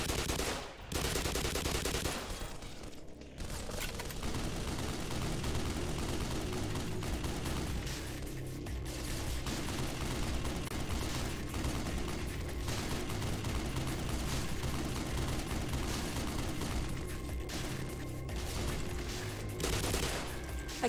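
Dense, sustained gunfire from the video game Black Mesa, rapid overlapping shots and bursts that roll on for about twenty seconds with little break, loud and close against a constant roar of combat.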